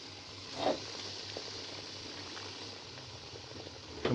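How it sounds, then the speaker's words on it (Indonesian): Water simmering in a pot on the stove while yellow rice is steamed, a steady low bubbling hiss with a couple of brief louder knocks near the start and end, no voices. "Bila airnya telah mendidih, kita bisa masukkan nasi kuning yang masih karon tadi ke dalam"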